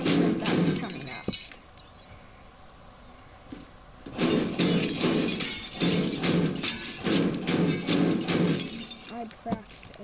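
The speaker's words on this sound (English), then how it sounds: "Oh, it's a greenhouse. That's why there's so much glass." Greenhouse glass shatters in the destruction game Teardown, with repeated bursts of breaking and tinkling panes coming in close, loud waves between quieter gaps, while a person talks.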